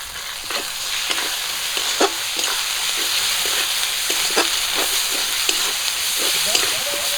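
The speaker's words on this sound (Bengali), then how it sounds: "মশলা একটু ভেজে নিয়েছি মাখানোর জন্য" Spices with poppy seed paste frying and sizzling in a pan, a steady close hiss with regular scraping strokes of a spatula stirring the mixture, no talking.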